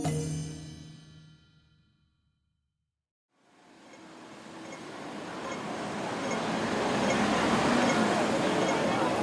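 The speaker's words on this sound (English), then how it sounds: "The whoosh of the subway," A Hong Kong subway train whooshes past, a broad rushing roar that swells from near silence after a fading prior sound and builds steadily louder for several seconds.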